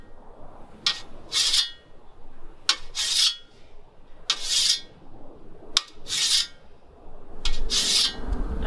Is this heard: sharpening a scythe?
yes